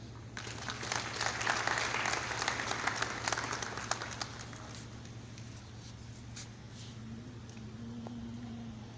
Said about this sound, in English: We give Royal Majesty a warm round of applause as he approaches